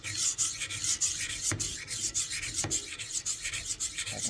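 A knife is rolled back and forth on the fine side of a Winklez rolling sharpener, soft rhythmic rasping strokes close up with a couple of sharper clicks, no voices.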